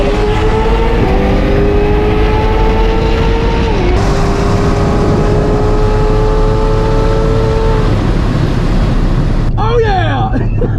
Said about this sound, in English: I think I heard him hit the rev limiter